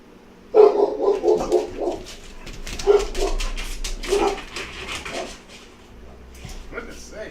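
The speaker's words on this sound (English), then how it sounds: "I'm not sure what they're barking at." Several dogs bark in loud, irregular bursts indoors, with yips and whimpers between, while a person talks over them in a home kitchen during a live cooking stream.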